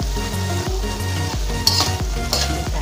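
Broccoli and carrot stir-fry being stirred in a hot pan, with steady sizzling and a spatula scraping in repeated strokes over rhythmic background music.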